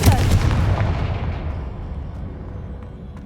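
A heavy, booming blast from the Confringo fire spell in the Hogwarts Legacy video game, loud and close at the start, then a long rumbling tail that slowly fades.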